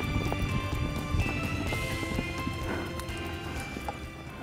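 A nervous Crioulo mare breaks from the start of a paleteada run, hooves drumming in quick irregular beats, faint and distant amid outdoor arena noise.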